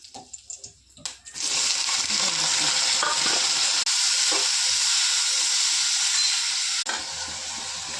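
Curry leaves drop into hot oil in an Indian home kitchen for a ridge gourd curry, bursting into a loud, steady sizzle after a few soft clicks and continuing alone without pause.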